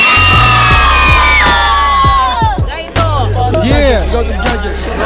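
A street rap battle crowd in Batangas shouts and cheers loudly for a battler, a dense roar of yelling voices, with a booming bass beat underneath.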